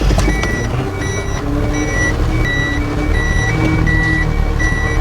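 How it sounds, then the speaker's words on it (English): A vehicle rolls back down a hill with a steady engine drone under repeated high reversing beeps that sound at regular intervals throughout. "I'll simply turn the ignition on and we'll go back down the hill in a nice, calm, controlled manner."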